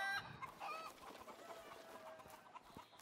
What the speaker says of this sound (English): Kick the chickens.